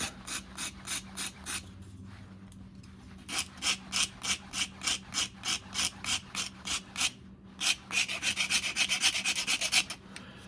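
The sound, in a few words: Shinto file rasping a wooden axe handle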